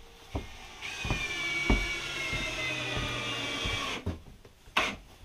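A power drill whirs steadily for a few seconds, driving a screw into wood while building raised planters, with knocks and clatter around it, then stops and a couple of clunks follow.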